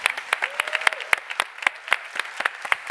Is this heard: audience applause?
yes